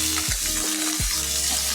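Vegetables go into hot oil tempered with nigella and radhuni seeds, setting off a loud, steady frying sizzle close by with a couple of sharp stirring scrapes, no voices.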